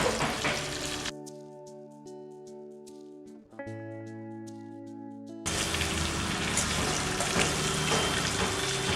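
Hilsa fish pieces fry in hot oil in a pan, the broadband sizzle steady and close at first, dropping to a quieter stretch with tonal hum in the middle, then resuming loud and continuous to the end.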